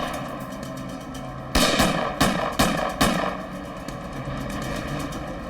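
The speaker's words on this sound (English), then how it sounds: "Shots fired" Gunshots fired in a reenactment of a Boston police shooting: five sharp, loud reports in quick irregular succession over a steady background hum, then the hum continues alone.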